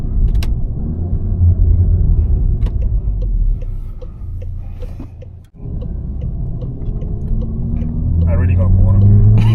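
A tuned VW Golf 7.5 GTI engine rumbles steadily while driving in town, a loud continuous drone that briefly dips and then builds again, with speech over it.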